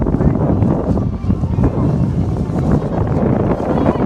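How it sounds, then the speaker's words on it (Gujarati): Strong wind gusts at a Porbandar Uttarayan kite-flying gathering, roaring and buffeting the microphone continuously and loudly throughout. "પવન નીકળ્યો એટલે કંઈ બરાબર પવન છે એકદમ ફૂલ"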